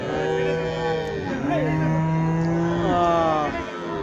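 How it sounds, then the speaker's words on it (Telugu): Cattle moo loudly and close at the weekly Wednesday cattle market in Punganur, Chittoor district, Andhra Pradesh, where Punganur, HF and Jersey cows, calves and bulls are traded. Long overlapping moos run continuously, with faint background activity. "పుంగునూరు ఆవులు, అలాగే హెచ్ఎఫ్ ఆవులు, జెర్సీ ఆవులు, దూడలు, ఎద్దులు అన్నీ అయితే వస్తుంటాయండి"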